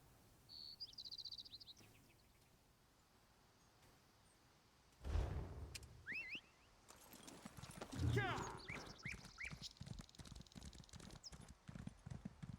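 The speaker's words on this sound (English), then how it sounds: "We'll use this horse." Horse hooves in The Elder Scrolls Online clip-clop in a steady, even rhythm through the second half, with faint bird chirps early on and a brief thud midway.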